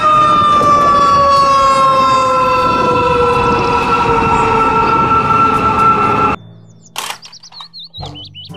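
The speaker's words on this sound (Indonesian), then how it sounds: "truk pemadam kebakaran" A loud toy fire truck siren wails steadily with a slowly drifting pitch, then cuts off abruptly, leaving brief clattering and squeaky sounds.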